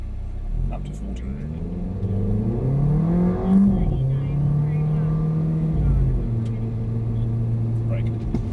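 A Mercedes-AMG A45 accelerates on a driving track, heard from inside: a steady engine drone climbs in pitch through the gears, holds, then eases off. People talk over the cabin noise.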